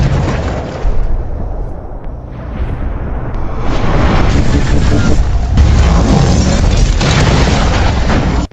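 A follow-up explosion from the direction of a factory, a heavy sustained boom with a loud roaring rumble that swells and lingers over several seconds, close and powerful.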